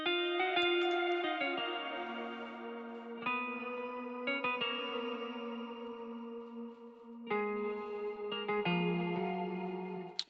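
A piano loop in FL Studio runs through a crystal choir preset and a stereo shaper, so the sustained chords sound shimmering, wide and washed with chorus and reverb. Melody notes change every second or so, with no voices.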